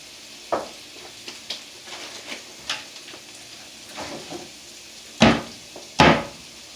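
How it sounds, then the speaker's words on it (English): Food frying in a pan on a home stove, soft sizzle under a run of scattered clunks and scrapes, with two louder bursts of hiss or clatter near the end; no talk. "So let that sizzle for a few more seconds, and I'm going to give it a turn"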